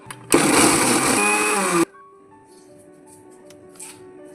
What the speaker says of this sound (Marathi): हे आपल्याला मिक्सरमध्ये फिरवून घ्यायचं आहे।